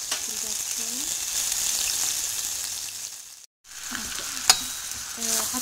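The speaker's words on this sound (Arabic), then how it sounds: "حطيت معاهم زوز مغارف زبدة، حطيت معاهم زوز مغارف فرينة، نخليهم يوليو دوري شوية." Butter and flour cook in a pan as the base for a béchamel sauce, giving a steady close sizzle that cuts out briefly before resuming.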